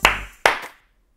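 Two sharp, close hand claps about half a second apart, each snapping loudly and then fading quickly, with nothing else around them.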